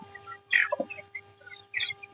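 Short, close calls from chickens on a poultry farm of about 300 birds: a few bright clucking notes over a faint steady hum.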